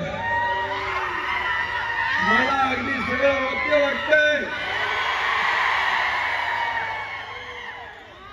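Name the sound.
rally crowd cheering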